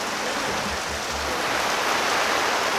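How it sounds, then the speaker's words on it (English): Steady rain falling outdoors, a dense even hiss that continues without a break, with no voices. "Rain."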